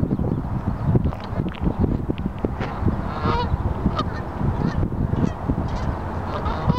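Geese or ducks at a park honk loudly and repeatedly at close range in a busy chorus, with light wind noise behind them.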